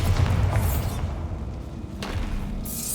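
A Bombarda blasting spell in Hogwarts Legacy on PC lands as a deep booming thud with a rushing whoosh, followed by a second swell of debris and rumble, loud and close.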